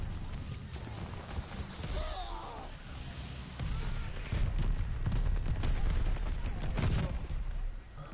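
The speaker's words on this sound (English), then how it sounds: "They're sending mortar shells. Heads up. Allied mortar fire coming." Mortar fire in the Call of Duty Vanguard video game, a run of irregular booming impacts and crackling blasts of varying loudness over a busy battlefield din, with faint voices mixed in.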